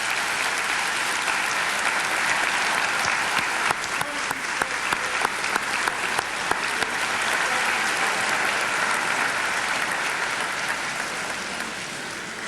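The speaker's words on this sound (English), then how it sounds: "Let's give them a warm welcome and applause." Sustained audience applause welcoming Vice President Dick Cheney and his family, a dense, steady wash of clapping from a large crowd that holds at full strength for the whole stretch before tapering slightly at the end.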